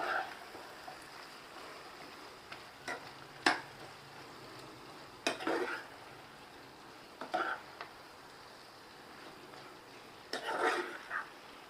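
Capsicum chicken is stirred in a pan, giving soft, quiet scrapes and clinks at irregular intervals over a low sizzle.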